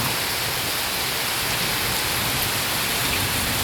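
Heavy rain pours in a dense, even hiss that stays constant and close throughout, with no distinct rumbles or voices standing out.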